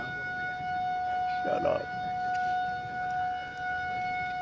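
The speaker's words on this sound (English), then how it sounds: "the sirens are just sounding because of this thing right here" Civil defense tornado sirens wail steadily during a June 2003 tornado in Mount Vernon, a sustained tone holding throughout, with a brief voice cutting in over it.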